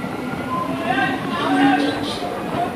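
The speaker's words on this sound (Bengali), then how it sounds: "আমাদের ট্রেন মেচেদা ছেড়ে দিল।" Local train on the Digha to Howrah line pulling out of Mecheda station, a steady rumble of wheels and carriages heard from inside, with faint squeals and a voice talking over it.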